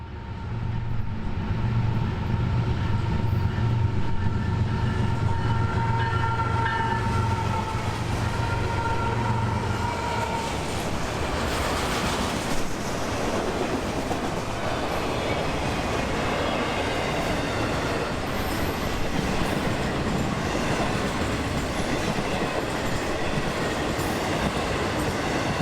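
A long Miami-bound freight of autoracks and intermodal cars, led by LNG-fueled locomotives, rolls past at track speed in West Palm Beach, its heavy low engine rumble giving way to a steady, loud rush of wheels and rail noise with no talk.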